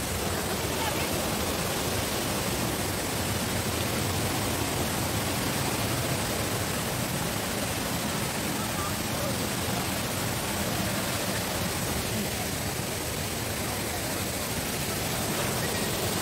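Kinahugan Falls, a waterfall, roars as a constant, loud, close wash of rushing water that stays unbroken throughout.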